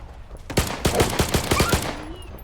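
A rapid burst of about ten gunshots in STALKER 2, evenly spaced and sharp, firing close and loud with no talking over it, then trailing off into quiet.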